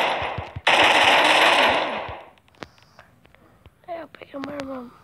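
Gunfire in the shooter game Free Fire: a loud sustained automatic burst, then scattered single sharp shots, with people talking and exclaiming over the later part.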